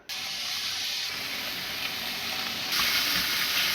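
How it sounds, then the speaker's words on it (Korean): Squid sizzles loudly as it is stir-fried in a pan for a ramen dish, a steady frying hiss that swells a little louder toward the end with no talking. "오징어를 볶아줍니다"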